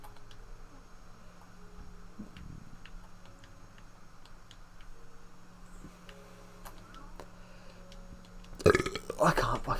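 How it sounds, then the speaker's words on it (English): A burp breaks out near the end of a quiet stretch while someone is playing Minecraft Legacy Edition, following faint ticking and low background noise. "I can't stop burping, sorry."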